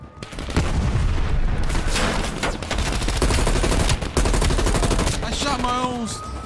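Gunfire in Call of Duty: Black Ops, dense rapid automatic bursts and booms packed close together and loud, ending with a few brief electronic tones, with no talking.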